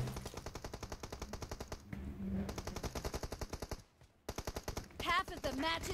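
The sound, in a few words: gunfire in PUBG Mobile video game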